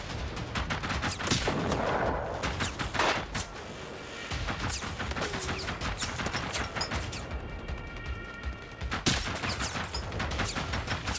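Shotgun blasts and other gunfire crack repeatedly in the video game Generation Zero, loud and close, in dense overlapping bursts over a constant background rumble of combat.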